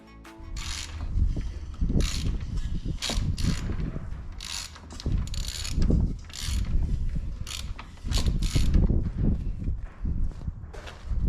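A Ford Transit Connect van's St170 turbo engine is turned over by hand with a tool, giving repeated bursts of ratcheting and clanking with short pauses between turns, close and loud.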